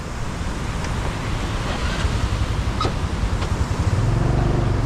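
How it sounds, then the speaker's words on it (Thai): A steady, full rush of water flowing through a tunnel under a steep mountain in Laos roars continuously, with faint clicks and a low rumble toward the end. "เสียงน้ำไหลอุกๆเลย"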